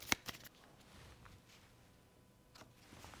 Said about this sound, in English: We're going to shuffle up all of these cards.